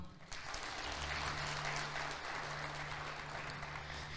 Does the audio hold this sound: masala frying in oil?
no